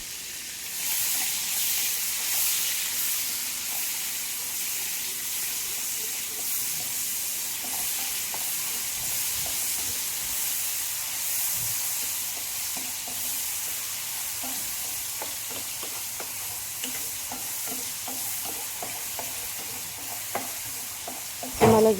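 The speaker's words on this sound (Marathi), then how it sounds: "ही टोमॅटो प्युरी आता चांगली परतून घ्यायची आहे." Tomato puree sautéing in oil for a village-style potato curry gives a steady close sizzle and hiss, with soft spatula scrapes and taps building toward the end, no voices.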